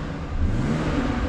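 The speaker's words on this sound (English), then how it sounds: "it does have the B58, which sounds great, so we'll give that a little rev while we're here" A BMW G30 540i M Sport xDrive with the B58 engine gives a short rev, the engine note rising quickly and holding, heard close and alone.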